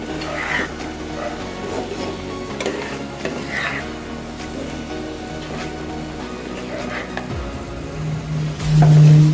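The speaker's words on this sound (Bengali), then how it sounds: "নাড়াচাড়া করে নেব" Pasta is stirred in a frying pan on the stove, with close scraping and sizzling that keep shifting in an irregular rhythm, loud and up front, plus a brief low thump near the end.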